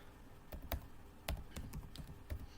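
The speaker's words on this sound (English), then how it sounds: "Click on any cell and start typing the names." Fingers type on a computer keyboard while entering names into an Excel spreadsheet, producing a quiet, irregular run of sharp key clicks with short gaps between them.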